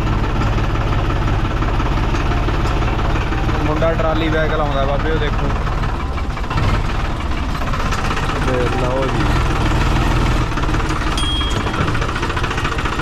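A tractor engine idles steadily and close throughout, a continuous low rumble with people talking over it.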